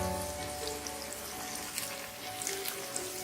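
Washed, chopped cabbage landing in a hot pan with roasted green chilies, giving a soft, steady crackling sizzle like light rain, close but fairly quiet.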